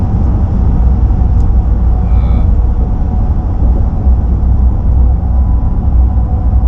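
Steady, loud low rumble of a RAM 1500 TRX engine and exhaust fitted with a high performance mid pipe, cruising under light load around 2,000 RPM, droning continuously from inside the cab.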